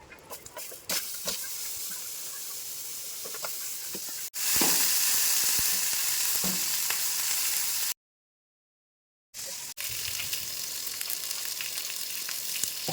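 Green chilli, tomato, onion and ginger-garlic fry in a pan with a loud, steady sizzle and hiss, broken by a few stirring taps, a sudden surge in intensity and one brief silent gap.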